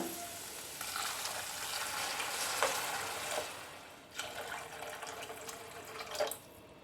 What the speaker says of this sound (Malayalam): നമ്മൾ ഉപ്പുമാവിന് ആവശ്യമായിട്ടുള്ള വെള്ളം ചേർത്ത് കൊടുക്കാം